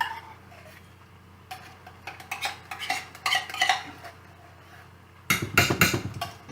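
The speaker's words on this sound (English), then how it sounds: "Mix that into your mixture." A spoon stirs cream of mushroom soup into a mac and cheese mixture in a bowl, with intermittent clinks and scrapes that grow busier and louder toward the end. No one speaks.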